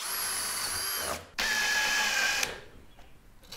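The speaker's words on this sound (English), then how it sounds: "So I'll drill my pilot hole first." A power drill boring a pilot hole ahead of countersinking for a bolt: a high steady whine that stops briefly, then spins up again for another second before cutting out, close and clear.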